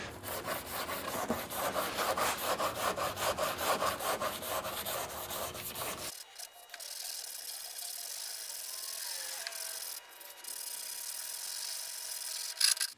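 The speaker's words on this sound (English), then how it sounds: "let me sand this down. I'll block sand it so I can show you where the low spots are" Auto body filler on a car repair is block sanded by hand, giving a rhythmic, close scraping rub in steady back-and-forth strokes. The strokes stop midway, leaving only faint handling noises.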